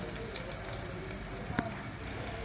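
Melting ingredient stirred in a pan over low heat for Filipino arroz caldo, a steady soft sizzle with a light scrape partway through.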